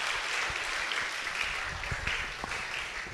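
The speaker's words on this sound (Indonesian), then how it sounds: "Kita aplaus sekali lagi dong untuk beliau." An audience applauds steadily at a doctoral address on legal protection for women, a dense, even patter of many hands clapping with a few sharper claps standing out.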